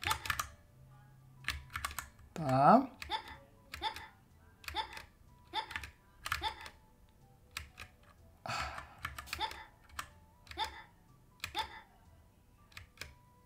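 Keys clatter on a computer keyboard during gameplay, coming in quick bursts of clicks with short pauses between them. Brief speech breaks in once, and one sharp squeaky sound stands out early on.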